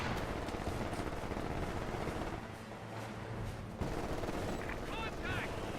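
Dense machine gun gunfire in a military video game, loud and sustained with sharp bursts throughout, mixed with shouting voices and battle noise.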